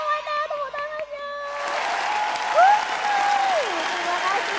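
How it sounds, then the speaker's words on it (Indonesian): Children at a Sunday school session break into steady applause that swells and holds, with a voice speaking over the clapping. "Tepuk tangannya mana? Tepuk tangannya."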